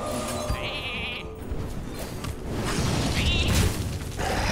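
A sheep bleats twice with a wavering cry in the card game Hearthstone, sounding over dense game effects and a rumbling background.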